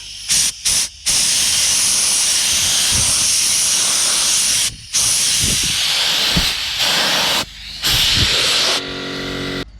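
Bursts of loud, hissing aerosol spray of yellow paint onto a trailer outdoors, held for several seconds at a time and separated by short pauses.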